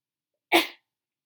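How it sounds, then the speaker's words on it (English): A single sharp sneeze bursts out close to the microphone during a quiet storytelling recording, brief and loud, with silence before and after. "I don't think I've ever sneezed while I recorded a story before."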